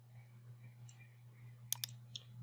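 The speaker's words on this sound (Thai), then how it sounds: "กดที่คีย์บอร์ดปุ่ม Windows กับปุ่มตัว R นะครับ" A few sharp, quick clicks like keyboard keys being pressed, close and clear, over a steady low hum with no talking.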